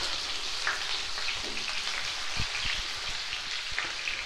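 Onions frying in hot ghee for a potato and egg curry give a steady, dense sizzle and crackle close by, with faint stirring taps and no voices.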